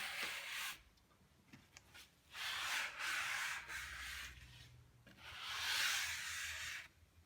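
A brush scrubbed along a freshly waxed ski base, long close rasping strokes in bursts separated by short pauses, no voices.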